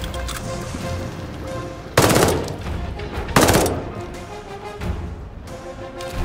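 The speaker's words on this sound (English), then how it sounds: "I love me a PPSH. Oh, I love this gun." A PPSh submachine gun in Call of Duty: Vanguard fires two loud, rapid automatic bursts, each about half a second long, over a dense background of game battle noise.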